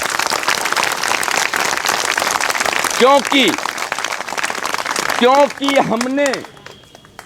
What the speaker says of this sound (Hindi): ताली बजाइए इस पे, बहुत बड़ी चीज़